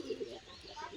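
A yellow-eyed Giribaz flying pigeon gives a brief, soft coo, two or three low pulses close by.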